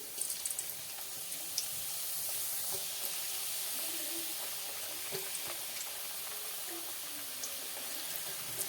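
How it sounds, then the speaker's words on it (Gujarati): Thin homemade potato wafers fry in hot oil in a kadai, making a dense, continuous sizzle with scattered crackles and pops, close and steady throughout. "તેલ પણ આપણું ગરમ થઈ ગયું છે. હવે તેમાં વેફરને નાખી દઈએ."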